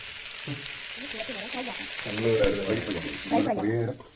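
Meat being gently stirred as it fries in a pan, a continuous sizzle under a person's voice, with scraping movements and a brief rise in intensity near the middle.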